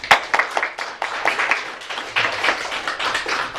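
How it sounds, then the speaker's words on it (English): A school showcase audience gives a round of applause, with dense overlapping hand claps close by that swell and ebb for a few seconds. "let's give them one more round of applause"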